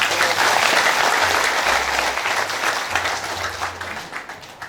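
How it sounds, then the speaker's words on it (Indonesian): Loud, sustained applause from an audience at a mosque study gathering at Sagara View in Boyolali, dense clapping that gradually fades over a few seconds. "Selamat dan tepuk tangan yang keras"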